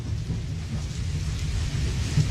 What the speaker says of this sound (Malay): datang lagi hujan selebat-lebatnya Casey